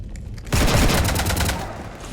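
Heavy gunfire aboard a ship in the video game Mass Effect 3, a loud sudden burst of rapid shots that kicks in after a brief quiet start and keeps rattling densely before tapering slightly.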